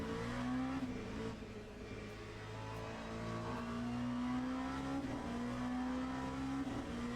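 An LMP2 prototype race car in the racing game Le Mans Ultimate, played in VR, gives a faint, thin engine note that climbs in pitch, drops back at gear changes, then climbs again.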